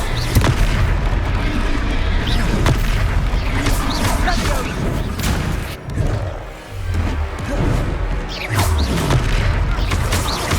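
Confringo blasting spells and battle explosions in the Hogwarts Legacy video game, loud repeated booms and crashes over a dense rumbling combat soundscape with game voices.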